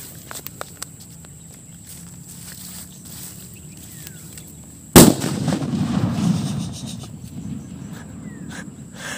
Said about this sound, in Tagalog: Talagang puputok na talaga ito.